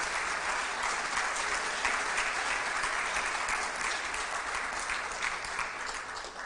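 A church congregation bursts into sustained, dense applause during a sermon, a loud, steady clapping that lasts several seconds before easing slightly.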